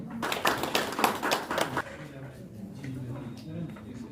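A village assembly meeting breaks into a burst of applause, clapping loud and dense for about two seconds before fading into murmurs and room noise.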